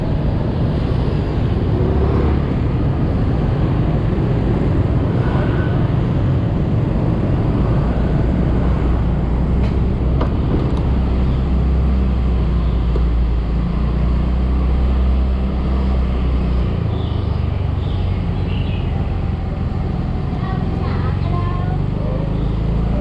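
A motorbike rides through busy Hanoi street traffic, with a steady close engine drone and broadband road and wind rush throughout, with occasional faint horns and other vehicles in the background.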